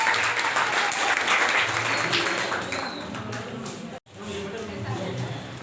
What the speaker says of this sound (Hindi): ताली बजाएं के लिए।